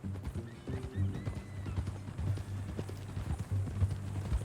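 Horse hooves clip-clop along at a steady walking rhythm in Red Dead Redemption 2, joined by a snorting neigh, with some quiet game speech.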